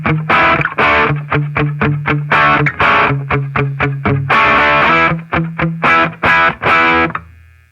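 A heavily distorted electric guitar played through a ProCo Roadkill distortion pedal, distortion set at 10 o'clock, plays a choppy riff of short chugging notes and sustained chords, loud and saturated with crunchy overdrive.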